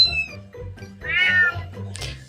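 A cat meows repeatedly, several drawn-out, wavering cries close by with a higher, sharper call near the end, alone without talk.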